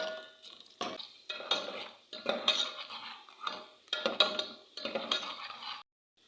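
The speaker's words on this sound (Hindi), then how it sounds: "प्याज फ्राई हो रही है।" Onion frying in oil in a pan, with a utensil scraping and stirring it in short, uneven bursts of clatter against the metal, close and fairly quiet.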